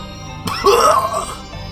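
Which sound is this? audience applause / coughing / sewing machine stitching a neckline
coughing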